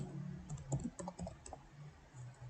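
Someone types on a computer keyboard while building a pharmacy database: a quiet, close run of irregular key clicks with brief pauses and no talk.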